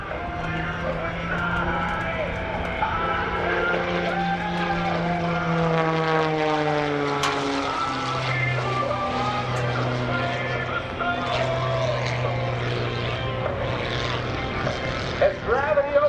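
An aerobatic propeller airplane's engine drones loudly at an airshow, its pitch sweeping down and then shifting as the aircraft climbs and slows to a stop at the top of a maneuver.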